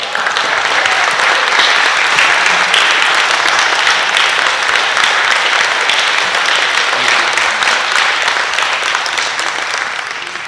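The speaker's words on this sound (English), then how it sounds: "Can we give these men another round of applause?" A graduation ceremony audience claps in sustained, dense applause, loud and even throughout with no voices rising above it.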